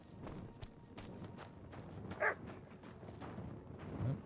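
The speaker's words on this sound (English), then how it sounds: "Oh, hear the dog." A dog barks a couple of times at mid distance in Kingdom Come Deliverance 2, a short sharp yap, amid horse hoof clip-clop and footsteps across the medieval game world.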